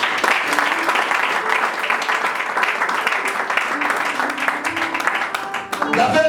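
A congregation at an evangelist's sermon applauds in a dense, continuous wash of clapping, with voices mixed in throughout.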